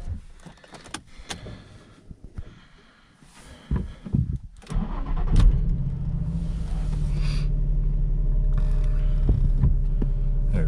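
A Nissan 350Z starts from cold, captured by a microphone inside the exhaust: scattered clicks and rattles, then the engine catches and settles into a loud, steady, low idle drone that holds to the end.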